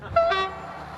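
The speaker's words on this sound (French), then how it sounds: "Refais-moi le coup de sifflet" A short, shrill train station whistle blast, bright and piercing, that sounds once and then fades away.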